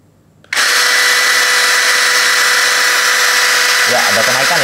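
DOLIZ BD636 12V brushless compact cordless drill runs up suddenly and holds a loud, steady high whine with a constant tone, briefly joined by a voice near the end.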